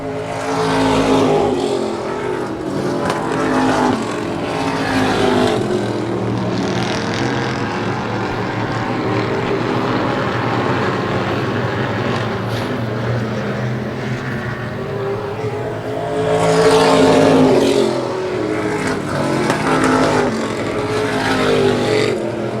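Race cars roar around a track in a tight two-driver battle, engines droning loud and continuous with rising and falling surges as they pass, with an announcer talking over the noise.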